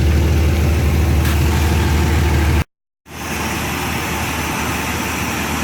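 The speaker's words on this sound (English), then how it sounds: "But yeah, we got it running." A truck engine rebuilt with an Edelbrock 1405 carburetor idles with a steady, heavy rumble, briefly cut to silence midway before the idle resumes.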